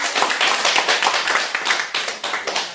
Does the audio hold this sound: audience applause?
yes